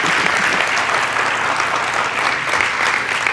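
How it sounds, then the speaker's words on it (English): Audience applause at a Seattle Unity Church service, a steady dense wash of clapping filling the room at close range, sustained evenly throughout with no talking. "Let's give him another round of applause."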